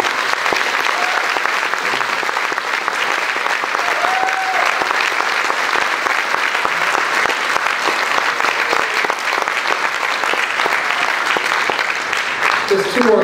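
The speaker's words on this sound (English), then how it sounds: "Let's give these seniors a big round of applause." An audience at a high school senior awards ceremony gives a long, loud round of applause. The thick clapping runs without a break for about thirteen seconds, with crowd voices mixed in.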